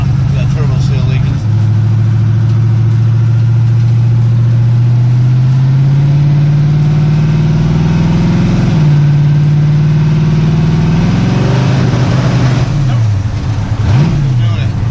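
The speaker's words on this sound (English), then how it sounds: "That turbo seal leaking." A turbocharged LS-engined car with a leaking turbo seal runs steadily, its engine note rising and dipping through a few revs, loud and near, with people talking over it.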